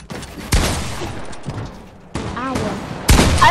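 Gunfire in the video game Fortnite, a few sharp bursts of shots separated by brief pauses, loud and close, with game sound effects between them.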